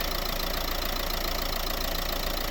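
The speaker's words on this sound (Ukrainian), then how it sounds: "Ось робота двигуна." A Renault Grand Scenic III 1.5 dCi diesel engine idles steadily with a rapid, even knocking rattle, close and constant for the whole stretch.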